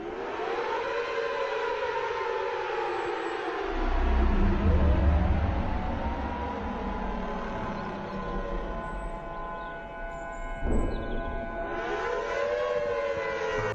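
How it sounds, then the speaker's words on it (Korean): A loud civil defense siren wails overhead, its pitch rising and falling in long sweeping tones over a deep low rumble, steady throughout with no speech. "그는 하늘에서 굉음과 같은 사이렌 소리가 울려 퍼지고 있는 것을 듣게 됩니다."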